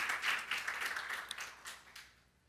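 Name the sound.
church congregation applauding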